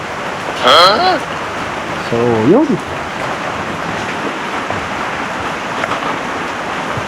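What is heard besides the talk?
mild rain falling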